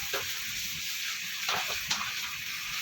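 Water poured onto tomatoes frying in a pan for an aloo gosht curry, giving a soft, steady sizzle and hiss with a few brief splashing bursts.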